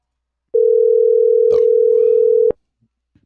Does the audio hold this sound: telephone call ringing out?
yes